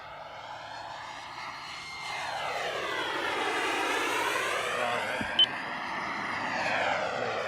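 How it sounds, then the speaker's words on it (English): A BVM T33 model jet aircraft sweeps low over the runway, its turbine whine rising and falling in pitch as it passes, moderately loud and continuous, with a brief click near the end. "Do a nice low pass over the runway"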